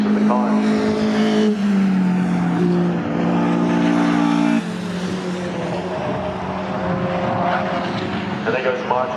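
A race car on the track at Cadwell Park, its engine droning with a steady tonal whine that shifts pitch as it passes, loud and continuous beneath a commentator talking.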